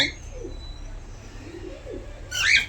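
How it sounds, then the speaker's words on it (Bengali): A cockatiel's soft call sounds near the end, brief and bright, over a quiet low background hum. "পাখি পরিবারের নতুন সদস্য ককাটেল"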